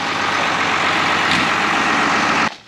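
A tractor idles inside a concrete-floored farm shed, a steady loud mechanical rumble with a throbbing low end that cuts off abruptly near the end.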